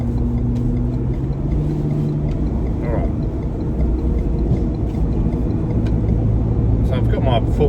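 A Ford Ranger SuperDuty's engine drones loud and steady as the truck accelerates into traffic on a highway while towing, with someone talking briefly over the constant road and engine roar.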